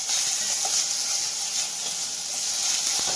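Tomatoes sizzle in hot oil in a pan as butter tomato puree is cooked for Maggi noodles, a steady close hiss with faint crackles and no voices.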